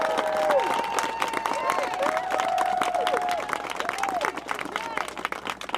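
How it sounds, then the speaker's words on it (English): An audience at a justice advocacy press conference gives a round of applause with scattered cheers, the clapping blending with crowd murmur while a voice with tonal, siren-like sweeps runs over it. "give them a round of applause"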